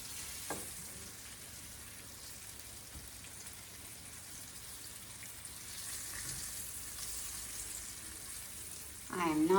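Chicken strips brown in a too-small frying pan, giving a steady, moderate sizzle and crackle throughout, with a brief voice at the end.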